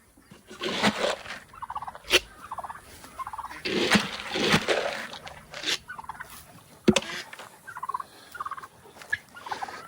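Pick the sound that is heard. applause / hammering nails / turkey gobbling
turkey gobbling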